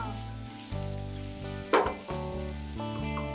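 Boneless chicken pieces frying in a pan for a coriander chicken roast, giving a steady sizzle with a few stirring scrapes and a brief louder hiss midway, fairly close and without talk.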